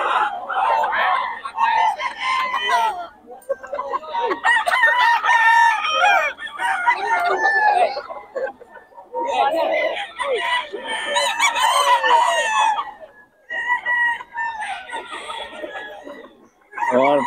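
Boston Sweater bloodline gamefowl roosters crowing and clucking close by in repeated loud bursts, with short gaps of near silence and some voices mixed in.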